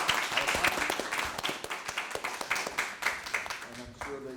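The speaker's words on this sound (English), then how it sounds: "why don't we conclude this session with a round of applause for them." An audience at an academic panel session on the Midwest in the long 19th century applauds the speakers. Dense clapping from many hands fades slightly over a few seconds, and a voice begins near the end.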